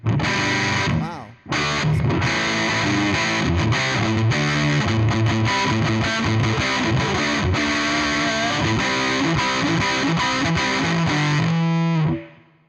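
An electric guitar plays through a Crazy Highway distortion pedal model in Bias FX: loud, thick, saturated riffs with a brief gap early on, then a final chord that rings out and cuts off.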